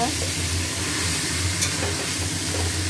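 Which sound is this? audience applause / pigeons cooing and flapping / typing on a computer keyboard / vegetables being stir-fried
vegetables being stir-fried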